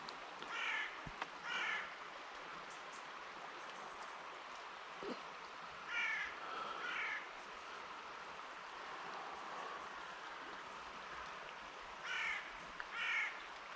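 Crows caw in thick fog during a wood-pigeon hunt, three paired bursts of harsh calls spaced a few seconds apart at moderate distance over a faint, steady outdoor hush.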